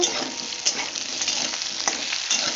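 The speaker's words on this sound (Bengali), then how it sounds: "আলুটাকে আমি তেলে একটু ভেজে নিয়েছি আগে তারপরে ওর মধ্যে একটা মিডিয়াম সাইজের পেঁয়াজ কেটেছিলাম সেটাও দিয়ে দিলাম আবারও নাড়ব" Potato pieces and a medium-sized onion fry in oil in a pan, a loud, close sizzle with crackling bursts and occasional scrapes as the mixture is stirred.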